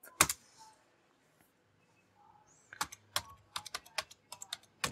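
A command typed on a computer keyboard, one early keystroke then a quiet pause before a fast, irregular run of crisp, close key clicks.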